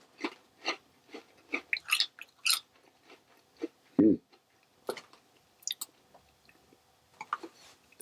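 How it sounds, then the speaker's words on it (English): Close, crisp crunching and biting of a salty, cheesy Australian cracker, a string of sharp bites and chews spread over several seconds with no talking. "a nice, reliable, crunchy cracker going on there"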